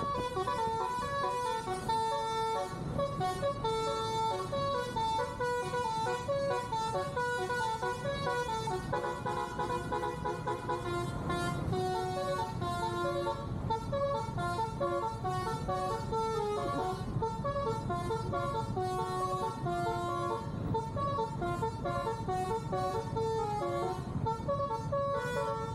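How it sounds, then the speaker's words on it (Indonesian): Musical telolet bus horns play a repeating multi-tone melody on a road between Malang and Kediri via Pujon, loud and continuous over steady traffic rumble, with short bright toots layered on top. "bunyi klakson basuri atau telolet terdengar dari kejauhan"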